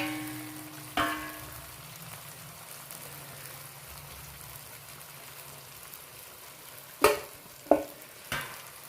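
Chicken pieces fry in hot oil with a steady, faint sizzle, broken by a handful of sharp metallic clinks and scrapes as the pieces are scooped out of the pan.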